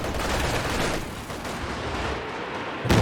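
Dense, continuous gunfire and bursts from a Company of Heroes 2 World War II battle, rattling steadily for about three seconds with a sharper impact near the end, no voices over it.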